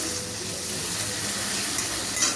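Shrimp frying in a pan, a dense continuous sizzle and hiss up close with faint stirring underneath, no one speaking.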